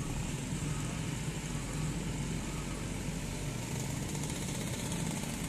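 A Best Premium tour bus rumbles close by while it maneuvers to park, its engine droning as a steady, loud, even hum with rough mechanical texture and no talk.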